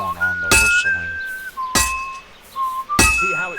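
Three loud, ringing hammer blows on metal at a blacksmith's forge in Kingdom Come Deliverance 2, evenly spaced about every 1.2 seconds, with a sustained whistled tune running between and under the strikes.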